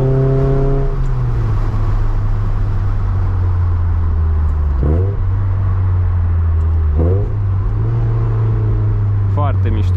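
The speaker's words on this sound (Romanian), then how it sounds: "Pentru că se aude tare motorul." A 1993 Toyota MR2's engine hums low and steady, then rises in three quick revs, heard loud and close with someone talking over it.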